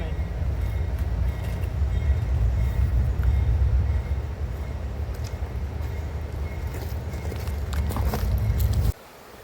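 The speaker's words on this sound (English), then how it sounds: "There's the train coming." A train rumbles steadily nearby, a heavy low roar building slightly before cutting off abruptly near the end.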